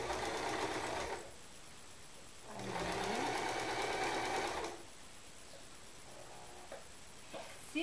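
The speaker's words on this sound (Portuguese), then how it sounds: "Passar a costura." A sewing machine stitches a round water jug cover in two steady humming runs of a couple of seconds each, separated by quieter pauses, heard close and alone.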